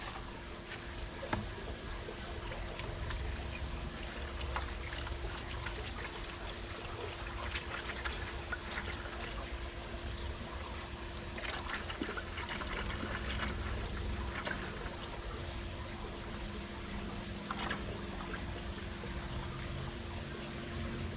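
Liquid components of Encore Cool for Pools deck coating poured into a bucket, a steady trickling pour running continuously for about twenty seconds at close range with no talk.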